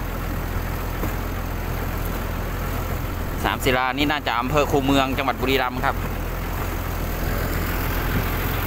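A large farm tractor's engine rumbles steadily and close throughout, near Ban Sam Sila in Buriram, where it is pulling out a ten-wheel sugarcane truck stuck in mud. Someone talks briefly partway through.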